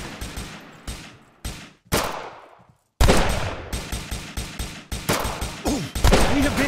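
Heavy gunfire in a first-person shooter game, loud bursts of rapid shots broken by short pauses, then a denser run of repeated shots with sharp decaying echoes.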